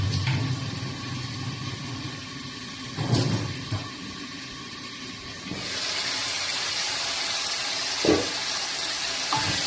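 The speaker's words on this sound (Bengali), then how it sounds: "এদিকে আমি সোয়াবিনটা জল দিয়ে ভিজিয়ে রেখেছিলাম, ওইটা ভালো করে ধুয়ে নিচ্ছি।" Soaked soya chunks are rinsed in water, heard as steady running tap water with splashing and a couple of brief knocks, close and continuous, louder in the second half.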